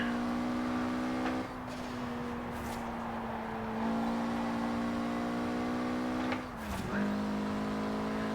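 A 1992 Mitsubishi Galant VR-4 engine in Forza Horizon 4 holds a steady, loud drone. Its pitch dips briefly twice as the car coasts through a corner and gear changes, with no talk.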